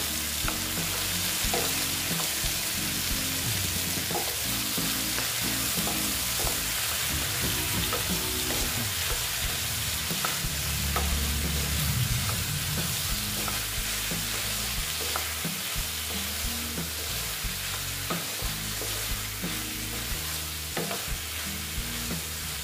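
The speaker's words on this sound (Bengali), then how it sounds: "দেখো এইভাবে আস্তে আস্তে আমি এটা ভেজে নেব" Soybean chunks and egg frying slowly in a pan, a dense, loud, unbroken sizzle over more than twenty seconds, punctuated by repeated stirring scrapes and knocks, with no voices.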